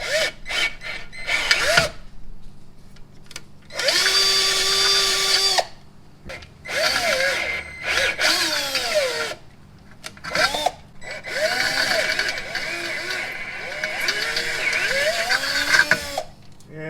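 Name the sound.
power drill drilling through aluminum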